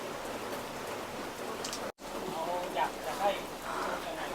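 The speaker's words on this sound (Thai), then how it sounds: "มาถึงปุ๊บ ฝนตกปั๊บเลย" Rain falling at the Na-Wana tent campsite in Cha-om, Saraburi, a soft steady patter with faint voices talking under it.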